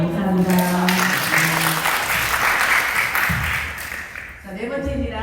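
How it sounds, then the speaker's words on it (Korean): Church congregation applauding after a call to praise God during a Korean sermon with Chinese interpretation at a Chinese seminary lecture, a loud, sustained burst of clapping with voices and music beneath it that fades briefly near the end. "우리 하나님께 박수, 영광의 박수 올려드릴게요"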